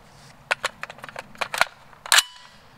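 An AR-10 rifle fitted with a cheap muzzle brake fires Tula 150 grain ammunition, with a quick run of sharp, cracking reports in irregular succession, the last one loudest.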